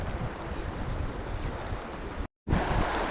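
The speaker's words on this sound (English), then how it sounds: "And the wind is picking up quite a bit here." Wind blowing outdoors beside a mountain stream during a fly-fishing trip, a steady broadband rush of gusts buffeting the microphone, briefly cutting out near the end before resuming just as strongly.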